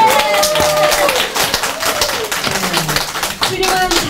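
A studio audience at a live talk show claps for mothers, brisk, close-sounding rhythmic applause with distinct individual claps, lasting throughout with voices faintly mixed in.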